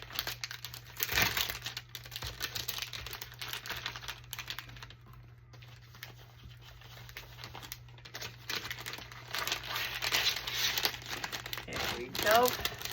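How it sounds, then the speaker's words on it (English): Fall journal pages handled and turned, making close paper crinkling and rustling that comes and goes, with a steady low hum underneath and some talk. "Sorry for the crinkling."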